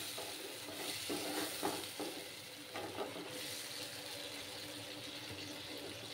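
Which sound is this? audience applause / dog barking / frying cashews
frying cashews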